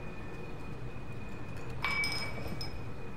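Glass plates clink in the video game SOMA, a couple of sharp, bright chinks close by over a quiet hum, with no one talking.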